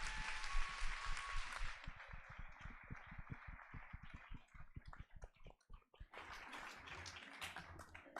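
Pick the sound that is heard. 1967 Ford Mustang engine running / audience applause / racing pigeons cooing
audience applause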